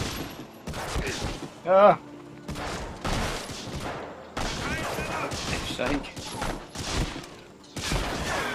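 Bursts of German troops' gunfire from the video game Medal of Honor Frontline crackle in rapid volleys, mixed with a player's startled exclamations and talk.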